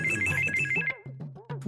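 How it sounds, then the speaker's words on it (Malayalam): A mobile phone ringtone trills briefly, with high repeating tones for under a second, then breaks into warbling, sweeping electronic beeps, close and fairly loud. "അതങ്ങ് നിങ്ങളെ ഫോണതാ ബെല്ലടി"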